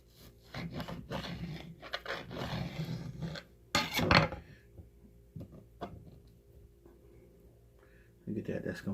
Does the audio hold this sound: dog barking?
no